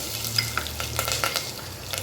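Green chillies hit hot oil with a tempering of mustard seeds, cumin and a little urad dal. A close, steady crackling sizzle sounds alongside repeated scraping stirs in the pan.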